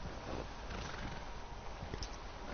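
Horse hooves clip-clopping steadily in Red Dead Redemption 2, a continuous rhythmic trot under a dense, noisy game soundscape, with a brief brighter accent near the end.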